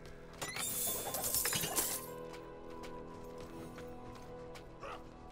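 Objects smash and shatter on the floor in Diablo IV, a loud burst of glassy breaking and clinking over about two seconds, then a few scattered smaller clinks that fade under a quieter background.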